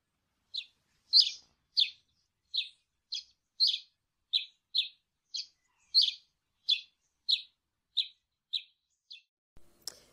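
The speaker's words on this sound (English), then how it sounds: "This is a house sparrow, but I'm sure you knew that already." A house sparrow in a garden chirps in a steady series of about seventeen sharp, evenly spaced notes, close and clear against near silence, ending with a soft thump.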